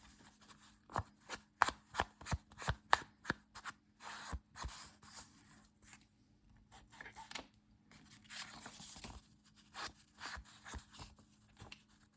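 An ink applicator is dabbed and rubbed over paper to distress a vintage photo for a junk journal page, heard as close, quiet, rhythmic scuffs and taps in bursts, with short pauses between them.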